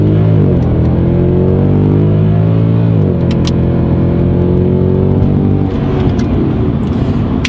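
A Mercedes AMG CLS63 accelerates hard from inside the cabin, its engine note climbing steadily through two gear changes with a loud, continuous rising drone and no talk over it.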